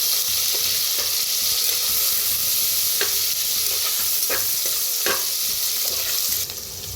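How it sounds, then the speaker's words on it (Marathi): Crushed green chili and garlic fry in hot oil for a spicy village-style chicken dish. A loud, steady hiss carries throughout, broken by a few sharp spatula taps and stirring scrapes. "जे आपण हिरवी मिरची लसूण चेचून घेतलं होतं ते तेलात भाजून घेऊया हलवून भाजून घेऊया"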